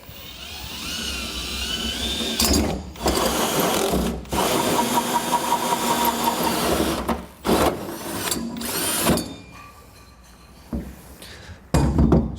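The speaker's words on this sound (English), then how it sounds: "All right, and now we begin drilling." A power drill bores out a pilot hole through a truck bed liner, sharp whirring bursts starting and stopping in several runs, loud and close, with brief pauses and clunks between them.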